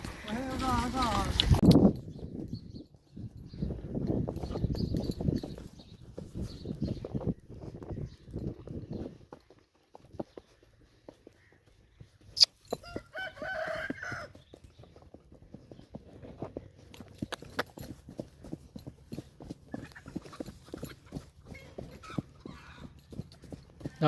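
A mare's hooves clip-clop in a steady rhythm across a farmyard, close and fairly loud, with people talking over the hoofbeats and a few louder knocks between them.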